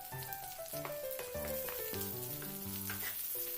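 Tomatoes and cashews fry in a pan for methi malai matar, giving a steady soft sizzle beneath louder melodic background music throughout.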